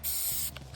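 Aerosol spray hissing onto an RC car body during repair work on a Redcat Everest shell with drywall mesh, a steady close hiss for about half a second, then a brief softer burst near the end.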